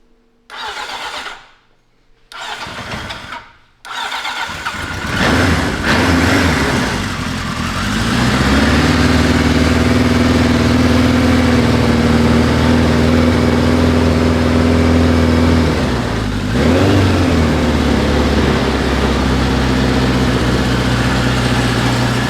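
A 1973 Kawasaki Z1 motorcycle engine, freshly rebuilt and leaking a little gas, cranks a few times, sputters, then catches and settles into a loud, steady running rumble with brief revs.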